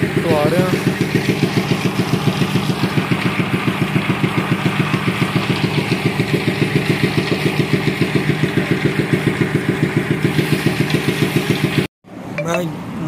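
Motorcycle engine idling steadily and close, a fast regular putter held throughout, cut off abruptly near the end before faint background sound returns.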